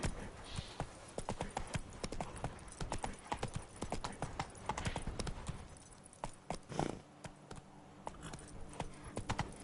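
Roach the horse trotting in The Witcher 3, a steady, close run of hoof clip-clops that continues throughout, with a faint whinny-like sound and low background game ambience.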